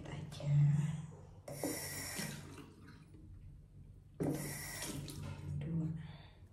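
Water runs from a tap in short bursts during an evening skincare routine, two separate gushes of splashing flow with a low voice heard between them.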